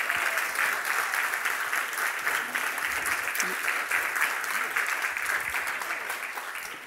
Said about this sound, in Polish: Proszę jeszcze raz o brawa.